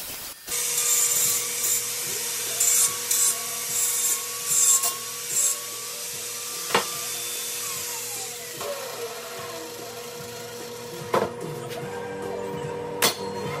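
A piece of wood for a utility trailer ramp is being cut, with rasping, scraping strokes in uneven bursts against a steady background hum, close and fairly loud, with occasional sharp knocks and no speech.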